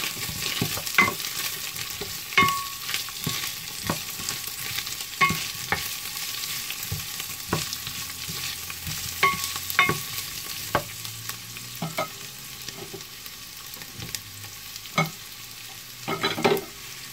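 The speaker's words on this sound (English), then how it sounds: "Then add chopped onions and continue to saute." Garlic and chopped onions sautéing in a pan, a continuous close sizzle with regular scraping and tapping strokes of a spatula throughout, no talk.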